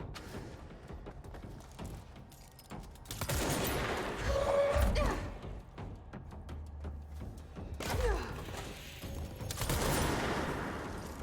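Sniper gunfire in the video game Control: a few heavy, booming shots and thumps spread across the span, mixed with rumbling action sounds, without talk.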